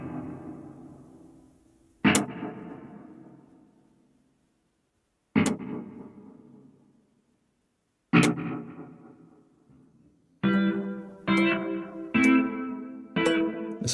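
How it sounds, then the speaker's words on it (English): Electric guitar played through a Keeley Nocturne ambient room reverb pedal into a Nano Cortex Bandmaster capture: sparse struck chords that ring and decay into a long wash, then a quicker run of four strums, with no talking. "Some sort of ambient room reverb there."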